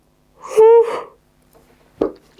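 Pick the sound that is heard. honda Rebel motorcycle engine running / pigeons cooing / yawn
yawn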